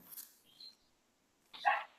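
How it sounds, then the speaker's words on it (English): A dog gives a short, fairly faint bark at the start, then a louder, sharper bark about a second and a half later, with quiet pauses between them in an indoor room. "Was that a dog there or a dog here?"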